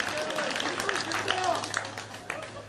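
Audience applause at a Korean political talk, a continuous clatter of clapping with voices and murmuring mixed in over it.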